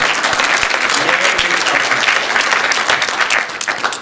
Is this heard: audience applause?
yes